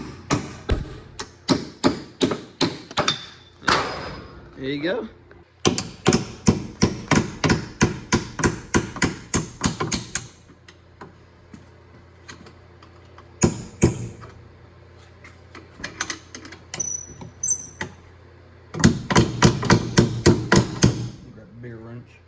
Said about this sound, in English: I grab a hammer and smack it.